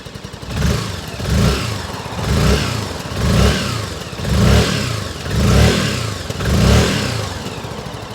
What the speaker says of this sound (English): A little bit of popping and farting from the back end there.